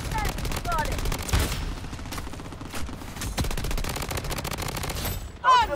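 Automatic gunfire in the shooter game Blood Strike, rapid dense bursts of shots with a sharp crack, loud and close, broken by short pauses and game sound effects, with a voice talking over it.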